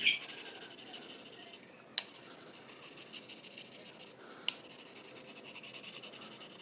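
A knife blade strokes steadily over an amber Arkansas whetstone, giving a continuous fine scraping rasp with two brief pauses and sharp clicks where the stroke changes, close and moderately quiet with no voices.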